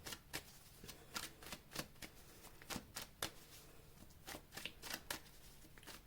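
Tarot cards are shuffled close up in a quiet room, a soft riffling patter of quick, irregular card slaps repeating for several seconds.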